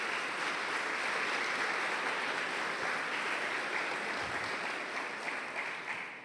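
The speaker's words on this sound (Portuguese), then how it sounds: "aplauda Jesus bem forte." A church congregation applauds steadily at moderate distance, a dense, even wash of clapping that fades slightly near the end, with no clear speech over it.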